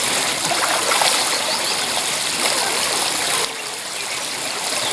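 Cold water pouring at a waterfall, a loud steady rushing hiss filling the whole stretch, dipping slightly in level near the end.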